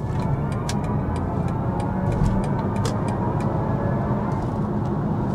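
Steady cabin hum and road roar inside a BMW iX1 xDrive30 electric car as it speeds up, a dense, even rush with faint, regular ticking clicks scattered throughout and no speech.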